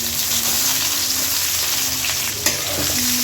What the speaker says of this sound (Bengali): পেঁয়াজটা বাদামি কালার করে ভেজে নিব